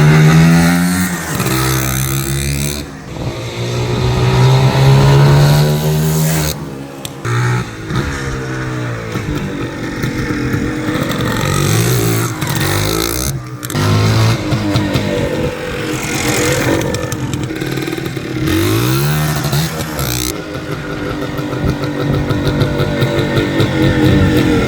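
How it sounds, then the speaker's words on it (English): A 1980 Kawasaki KDX250 motorcycle engine runs up close and loud, its busy two-stroke note wavering and blipping with several brief throttle dips over a long stretch. "Listen to this thing idle."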